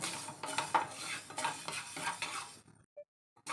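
A utensil stirs fenugreek seeds roasting in a pan for homemade sambar powder, giving close, repeated scraping and clinking against the metal with a faint sizzle before it stops abruptly.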